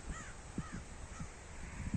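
Crows fighting over territory around a spruce tree outdoors, giving several harsh caws in short bursts, faint and distant against a steady background hiss.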